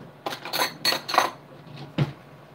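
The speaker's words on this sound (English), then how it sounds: "Let me just get my spoon and taste this real quick." A spoon clinks against a pot of homemade chili, a handful of close metallic taps and scrapes in a quick cluster, then a single sharper knock after a brief pause.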